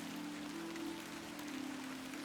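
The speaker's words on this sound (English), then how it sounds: "Oh, it's raining." Rain in the video game The Excavation of Hob's Barrow, a soft, continuous patter of drops with a low steady hum beneath, quiet and unbroken, with no talk.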